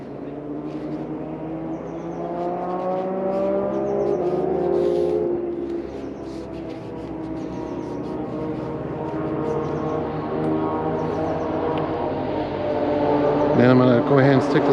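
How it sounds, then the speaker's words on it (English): Motorcycles pass by on a nearby road, their engines rising and falling as each one approaches and fades, with someone talking over the traffic noise. "Motorcycles are out in force today."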